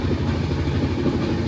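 Duronto Express 12246 running between Bangalore and Kolkata past hills, heard as a loud, steady, close low rumble of wheels and carriages that continues without a break.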